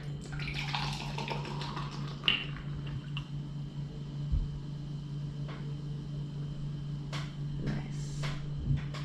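Red Stripe Jamaican beer is opened and poured into a cup, a close trickling, fizzing pour with a few clinks and pops over a low steady hum, with no talk.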